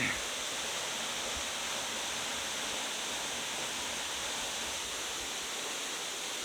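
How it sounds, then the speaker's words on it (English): A small waterfall in Japan roars steadily, a dense, unbroken rush of falling water heard close and loud throughout. "this freaking tiny waterfall producing so much noise"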